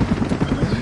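Call of Duty Modern Warfare helicopter, loud rapid rotor thumping in a steady pulsing rhythm, close and alone.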